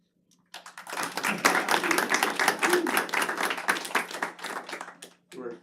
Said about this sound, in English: They were clapping for me because I said it correctly.